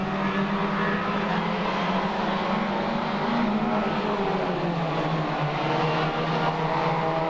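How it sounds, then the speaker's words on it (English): Junior hot rod race cars starting a race at Arena Essex raceway, a dense, steady roar of many engines blending together at mid distance, loud and unbroken throughout. "away we go with this race"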